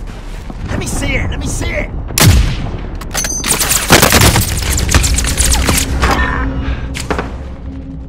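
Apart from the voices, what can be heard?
gunfire from the video game Call of Duty: Modern Warfare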